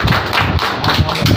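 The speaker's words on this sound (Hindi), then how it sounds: "ताली बजा के एक मरतबा" Audience at a social workers' award ceremony in Ramzanpura clapping in a brief, loud, rhythmic burst of hand claps, close and choppy.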